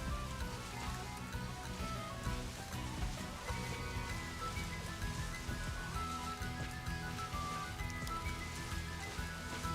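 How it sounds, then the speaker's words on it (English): Steady rain falling in Pokémon Scarlet, a dense, even hiss of drops that holds at constant loudness throughout with no pauses or speech. "Of course, it started to rain."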